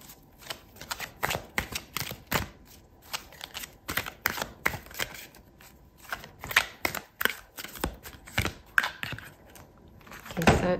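Soft, rapid riffling and flicking of tarot cards being shuffled, with short bursts of slapping and sliding, then a card pulled from the deck near the end, close and fairly quiet.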